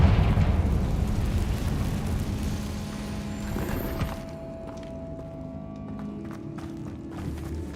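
A Confringo blasting spell explodes in Hogwarts Legacy, bursting out in a loud, broad rumbling blast that fades over several seconds into a quieter ringing tail with faint scattered clicks and no talk.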